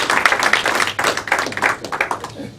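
Applause for a student at a Fairfield County school board meeting: a roomful of people clapping quickly and unevenly, close and fairly loud, sustained briefly.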